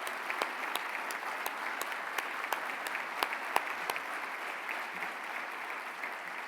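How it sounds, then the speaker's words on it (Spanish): Sustained audience applause fills a tent at the closing ceremony of the XXII CLAD International Congress in Madrid, 2017: a dense, even wash of many hands, with a few sharper individual claps standing out. "Desde luego les pido un enorme aplauso para él."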